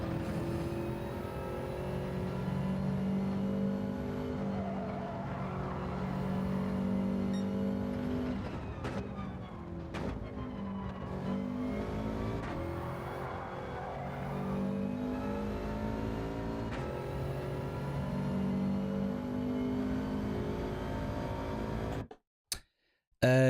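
A racing car engine in the Gran Turismo 7 game at Brands Hatch drones and revs steadily for over twenty seconds, pitch rising and falling through gear changes, loud and continuous before cutting out abruptly near the end.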